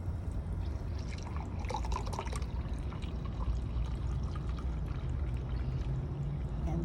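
Beef broth pours steadily from a measuring cup into a skillet of taco mac ingredients, a soft continuous liquid splash and trickle heard close up and fairly quiet, with no talking.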